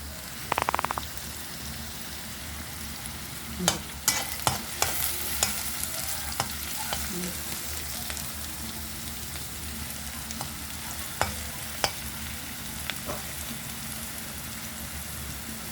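Onions frying until browned, a continuous crackling sizzle broken by repeated scraping and clinking as a spoon stirs them around the pan.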